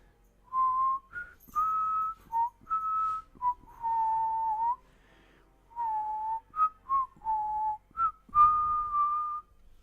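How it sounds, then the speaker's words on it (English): Someone whistles a bright tune in a run of short and held notes with brief pauses between phrases, clear and fairly close, with nothing else audible. "you hear the whistle from above go."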